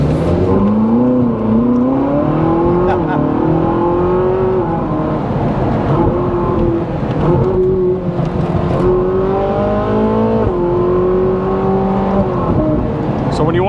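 A Ferrari 458 Spider's engine revs loudly while driving, its pitch climbing and dropping repeatedly through gear changes in a continuous close, strong roar that dominates from start to finish.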